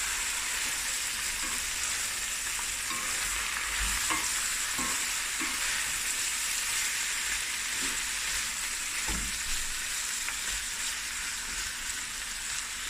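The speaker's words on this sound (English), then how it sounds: "I'm just going to give it a stir" Cape Malay denningvleis frying in a pot over medium heat, with a continuous loud sizzle and occasional scraping knocks as it is stirred.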